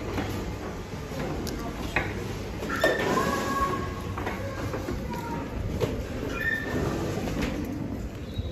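A Moscow metro train at an end-of-line station, with steady rumbling, high brake and wheel squeals, and clicks from the cars as it slows and stands at the platform.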